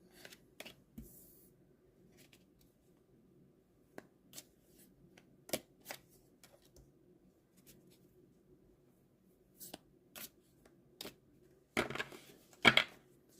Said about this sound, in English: Let's shuffle for relationships and love.